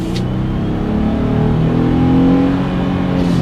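A 2020 Jeep Gladiator Overland truck accelerates hard, engine note rising steadily and droning loudly from inside the cab, with no talking.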